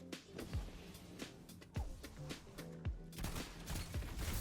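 Gunfire in the shooter video game Destiny 2, a quiet run of repeated weapon shots with sharp descending sweeps and a steady background of game sound.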